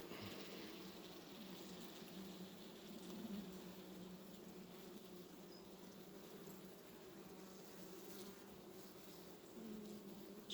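Honeybees buzz around a beehive frame during a July swarm check, a dense, continuous hum of many insects heard close, with no talking.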